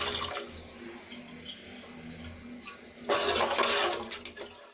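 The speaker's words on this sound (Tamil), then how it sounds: "இதுக்கு 2 கிளாஸ் தண்ணி சேர்த்துக்கிறேன்." Water poured from a glass into a pot of rice for egg biryani, a steady hiss and splash that swells into a louder, fuller pour near the end, with no talk.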